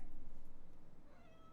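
A cat meows once near the start, a short and fairly quiet call over a low background hum, with no talking.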